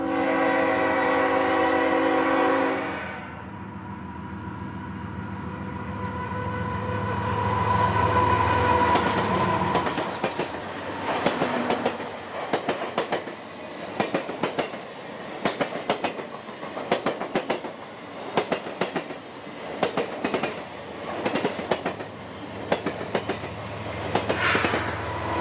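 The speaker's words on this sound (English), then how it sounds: "the annual BNSF Christmas train took the San Bernardino sub toward Orange County" The annual BNSF Christmas train passes at West Riverside on the San Bernardino Subdivision in December, opening with a loud horn blast. Heavy engine rumble follows, then a long, rhythmic clickety-clack of cars rolling steadily past, close and loud.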